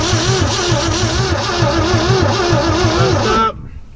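A Willys truck engine cranks and fires, running loud and rough with a steady pulsing beat before cutting off abruptly near the end.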